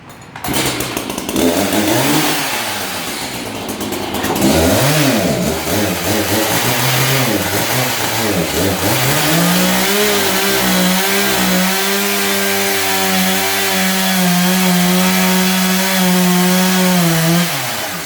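A chainsaw with a dull chain revs loud and close, its engine pitch rising and dipping as it bites into wood, then holding at a steady, strained high whine through a slow cut; no talk.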